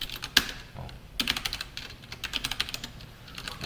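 Java code being typed on a computer keyboard: a quick cluster of close, crisp key clicks, a pause, then a longer uneven run of keystrokes, with no voices.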